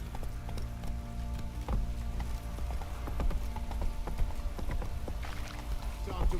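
Horse hooves galloping across terrain in The Witcher 3, a steady rapid clip-clop rhythm close by over low game ambience, with brief bits of talk mixed in.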